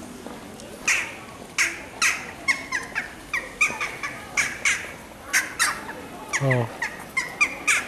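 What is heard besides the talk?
birds chirping at street performance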